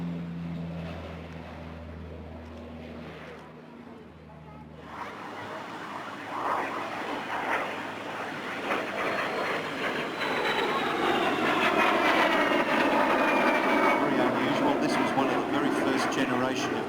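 A jet aircraft makes a pass at a military air base open day air show, a loud roar swelling over the second half, with a public-address announcer talking over it early on.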